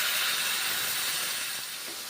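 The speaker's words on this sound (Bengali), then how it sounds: "এইভাবে ঝিঙের তরকারি রান্না করছি সামান্য জল দিচ্ছি" Water poured into a pan of sizzling ridge gourd curry gives a loud, steady steam hiss that slowly eases off, with no voices.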